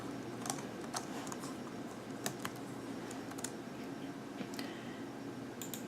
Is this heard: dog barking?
no